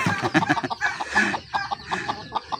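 A red junglefowl rooster clucks in quick, choppy bursts up close, a run of short throaty calls with brief pauses between them.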